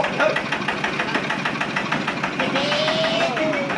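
A modified ride-on plough tractor, recently repaired and being driven while its gears are tried, chugs with a steady rhythmic knocking engine note that rises slightly toward the end, with a voice faintly underneath.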